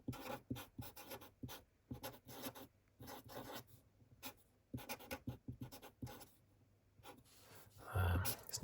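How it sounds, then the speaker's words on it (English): Pen or pencil strokes scratch across paper in quick, rhythmic bursts with brief pauses, intimate and close in a quiet room, handwriting notes down. "Let's just write that down, shall we?"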